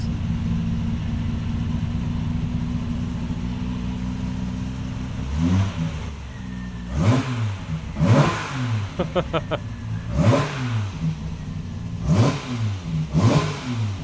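A cold Triumph TR6 engine idles steadily, then is blipped in a series of sharp revs that climb and fall repeatedly, close by and loud, with brief talk between the bursts.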